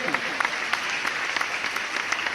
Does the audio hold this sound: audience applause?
yes